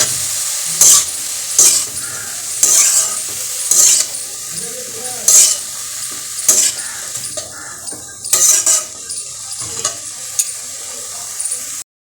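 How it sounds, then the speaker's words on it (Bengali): Cabbage and cauliflower fry in a hot pan while a utensil stirs them. Sharp scraping and clinking strokes come at an uneven rhythm over a soft, constant sizzle, close and fairly loud. "বাঁধাকপিটাও ভাজা ভাজা হয়ে গেছে একদম নরম হয়ে গেছে"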